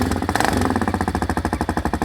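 A DM 200 motorcycle engine runs with a drilled, perforated exhaust, giving a loud, fast, even chugging pulse that holds steady and close up.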